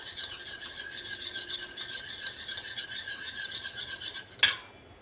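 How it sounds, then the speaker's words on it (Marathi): Curd with salt whisked in a bowl, a quiet, continuous scraping and rubbing that runs steadily and ends with a single sharp clink. "याच्यामध्ये थोडंसं कमी घालायचं आहे आणि हे चांगलं फेटून घ्यायचं आहे"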